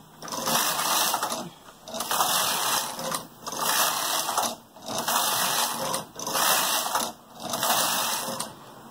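A knitting machine's carriage knits rows of a weighted hem at a large stitch size, making six even, rhythmic whooshing passes about every 1.5 seconds, each a loud mechanical rush followed by a brief drop, with no talking.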